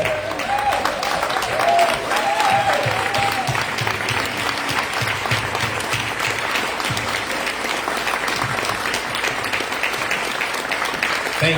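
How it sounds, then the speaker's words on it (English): Prolonged applause from a standing crowd at a Lauderhill community panel on breaking the cycle of violence, honoring the mayor. Dense clapping holds steady and loud throughout, with faint voices mixed underneath. "Let's give the mayor a round of applause for bringing this to us."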